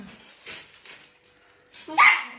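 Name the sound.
dog barking at a new pygmy hedgehog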